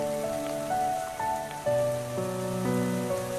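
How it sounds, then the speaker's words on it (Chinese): Rain falling in a drama scene, a steady soft hiss of rain on surfaces beneath prominent sustained melodic music. "下雨了"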